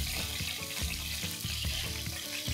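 Ginger and garlic fry in hot Blue Band margarine with a steady, dense crackle and sizzle that runs without a break, close by and moderately loud.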